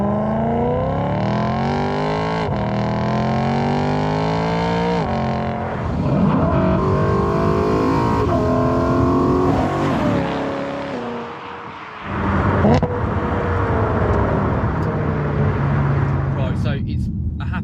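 A cheap BMW E92 M3 running a modified factory exhaust revs and accelerates through the gears, its engine note climbing and falling loud and close, with a brief lift-off dip before pulling again.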